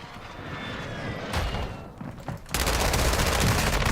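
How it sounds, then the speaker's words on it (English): Video game gunfire bursts out in a dense, rapid automatic volley that fills the second half, following a quieter stretch with a single sharp crack amid rumbling background noise. "How many bullets do I have to shoot him with?"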